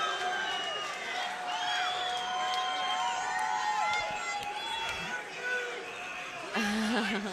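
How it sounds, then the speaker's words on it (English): Crowd at a TXC Legends 3 fight event cheering and shouting in a busy wash of voices, while a commentator talks over it throughout. "This is getting the crowd on their feet, amped up"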